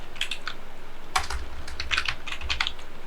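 Programming code is typed on a computer keyboard: quick, uneven bursts of close, crisp key clicks with brief pauses between them, and no speech.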